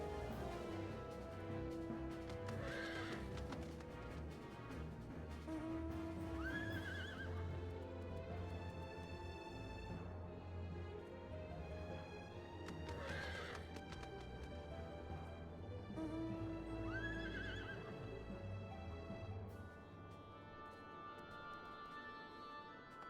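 Horse mounts in Final Fantasy XIV, with repeated loud whinnies rising over a constant musical score and a steady clip-clop of hooves throughout.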